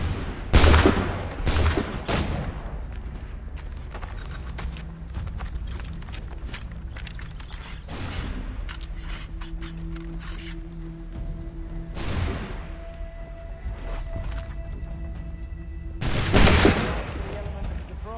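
Gunfire in Assassin's Creed III Remastered, a few loud musket-style volleys spaced seconds apart, with horse hooves clopping and scattered battle noise between the shots.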